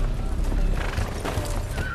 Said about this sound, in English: If you would be so kind as to dismount your horses.